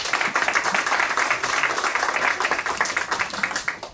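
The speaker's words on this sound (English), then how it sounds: "please give him a round of applause" Audience at a Chicano Reflections conference applauding a speaker who is a U.S. Army veteran, a steady, dense wash of clapping from a crowd that holds for the full stretch at moderate level without letting up.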